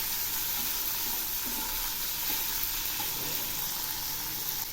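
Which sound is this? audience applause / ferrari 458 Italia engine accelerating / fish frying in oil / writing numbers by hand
fish frying in oil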